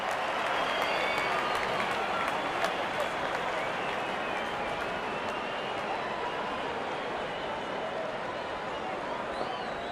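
A stadium crowd applauding and cheering in the cricket video game RC 24, a dense, steady wash of clapping and crowd noise sustained throughout at even loudness.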